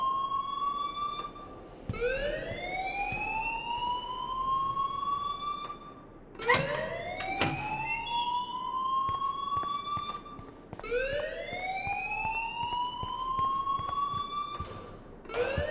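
A wailing school alarm from the video game Life is Strange sounds in three rising, siren-like sweeps, each climbing and holding before cutting off, loud and alone with no talk.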